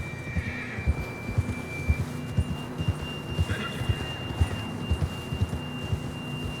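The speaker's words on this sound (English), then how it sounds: "John was riding that horse when we left Blackwater" A horse in the video game Red Dead Redemption 2 whinnies in shrill bursts over a steady rhythm of hoofbeats clip-clopping close by, with a low hum underneath.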